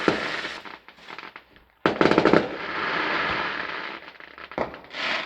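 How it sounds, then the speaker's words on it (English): Fireworks explode repeatedly on a loud night in a wildlife garden, with dense crackling bursts and rapid popping that swell and fade, some volleys sharp and near, others rumbling in the distance. "Just everywhere fireworks, but hey ho."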